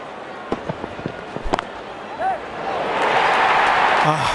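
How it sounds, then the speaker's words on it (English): Crowd cheering in the Real Cricket video game during a Pakistan vs India match, a broad roar building over the second half after scattered sharp hits and claps, steady and loud toward the end. "The crowd is enjoying every bit of this action."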